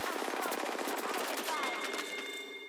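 Video game gunfire crackles in rapid automatic bursts, a quick string of sharp shots, fairly quiet and with no talk over it.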